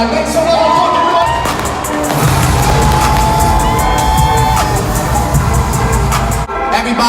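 A large concert crowd roars and cheers continuously, loud and dense, with whoops and shouts rising through the din.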